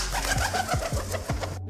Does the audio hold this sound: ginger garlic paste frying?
no